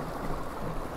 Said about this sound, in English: The only noise you can hear is the slight churning of the water behind us and the slap of the hull on the water.